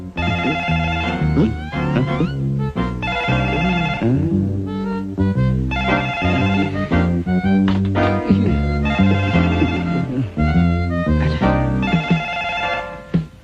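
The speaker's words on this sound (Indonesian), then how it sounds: "Siapa sih telepon masih malam begini?" A telephone rings late at night, loud and close, with repeated bursts of bright ringing and short pauses between them.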